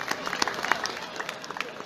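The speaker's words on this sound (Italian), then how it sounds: "grazie al nostro Damiano Buonatesta, salutiamolo con un calorosissimo applauso." Warm applause greets a performer at a local talent show in Veglie, a brief patter of many clapping hands, moderately loud and somewhat distant, with crowd murmur underneath.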